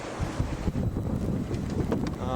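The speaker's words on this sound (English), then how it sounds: "it's just a nice driving wind. It's doing a real good job of pushing the boat along" Wind pushes a sailboat along at 8 to 11 knots through 3 to 6 foot waves on a Michigan lake sail, giving steady blustery rushing and buffeting with water sloshing against the hull, loud and close.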